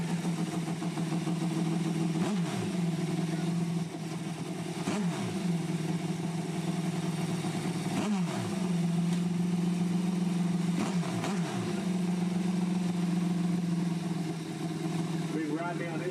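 Kawasaki drag-racing motorcycle at a drag race nationals event, a steady loud engine drone with a few rising and falling revs, heard under a commentator speaking over a PA.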